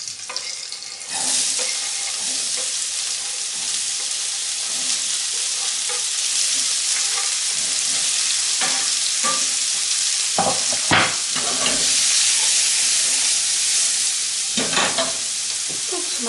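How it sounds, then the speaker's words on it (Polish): Chopped onion and garlic fry in leftover fat in a pan, with a steady, loud, close sizzle throughout and occasional clacks of stirring. "na podstałym tłuszczu posmażę pokrojoną cebulę z czosnkiem"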